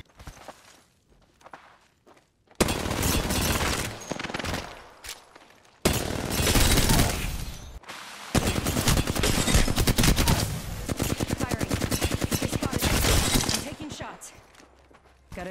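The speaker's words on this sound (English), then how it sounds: "Getting shot at." Sustained bursts of rapid gunfire from Apex Legends erupt in loud, dense volleys, broken by short pauses, with a brief quieter stretch at the start.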